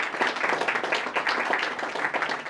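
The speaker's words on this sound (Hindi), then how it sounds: "बजाओ ताली।" A classroom of students claps together for a classmate's test score, a brisk rhythmic patter of many hands filling the room at close range.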